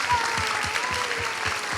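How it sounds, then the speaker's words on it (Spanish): An audience applauds at a theatre or literary event, a brief burst of many hands clapping steadily at moderate loudness. "Un aplauso para Solita Silvela"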